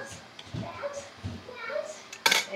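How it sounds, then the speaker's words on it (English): Children play and chatter in the background of a home kitchen while sauerkraut is being canned, with dishes and cutlery clinking and a sharper clatter near the end, all fairly faint. "You can hear my crazy kids in the background."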